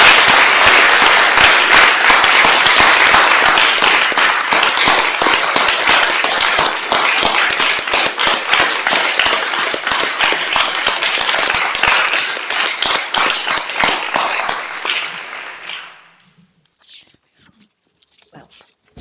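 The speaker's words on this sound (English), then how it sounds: "I think he deserves a round of applause." The audience at a swearing-in ceremony for the Deputy President of the UK Supreme Court gives a long, loud round of applause. The clapping fades and stops near the end, leaving quiet room noise and a few scattered sounds.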